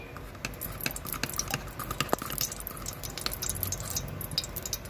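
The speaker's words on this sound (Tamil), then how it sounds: "அதுக்கு குக்கரை வச்சுட்டு அதுக்கு தேவையான நெய் ஊற்றிக்கலாம்." Ghee is poured into a pressure cooker on the stove, making faint, close dripping and soft crackling in a quiet kitchen.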